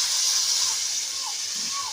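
Steady broadband hiss of water steaming in a hot pan of ridge gourd curry on a wood-fired stove, continuous and fairly loud throughout, with faint clinks in the background.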